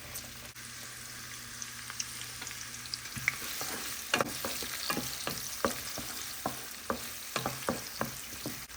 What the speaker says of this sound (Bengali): সেই জন্য আমি এখন পেঁয়াজ রসুন দিয়ে দিচ্ছি।